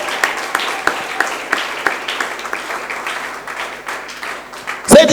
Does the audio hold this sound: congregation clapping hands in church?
yes